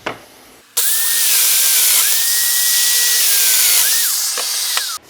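Festool Domino DF500 joiner plunging into wood to cut mortises, a loud steady motor whine with a shifting pitched tone lasting about four seconds, starting and stopping abruptly, no voices.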